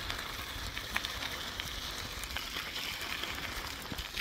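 Steady soft hiss of rain falling on a surface, with occasional faint drips and pops, no voices.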